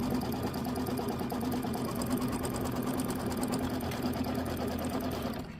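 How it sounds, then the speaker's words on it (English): A home embroidery machine stitches a tack-down and a quilting stitch in white thread on a mini quilt filler block, humming loud and close with a fast, even needle rhythm that runs almost the whole time. "Now we're going to do the tack down, and then we'll do the quilting stitch"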